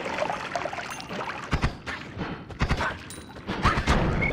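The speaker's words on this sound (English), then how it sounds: "Oh, revenge explosion." A run of crackling, popping blasts from a revenge explosion in the pixel roguelike Noita bursts in rapid uneven clusters over a fizzing, hissing bed of game sound.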